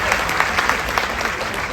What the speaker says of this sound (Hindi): तालियां बज जाए तो।